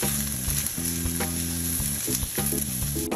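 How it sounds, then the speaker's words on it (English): Mushrooms frying in olive oil in a hot pan, a steady close sizzle with bursts of stirring and scraping throughout, no talking. "we are going to stir those around with the olive oil"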